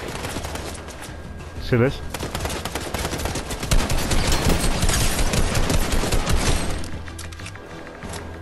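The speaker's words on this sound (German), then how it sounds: "die ballern auf mich" Video game gunfire aimed at the player rattles in dense, overlapping bursts for several seconds, fairly loud and continuous, with a player's voice talking over it.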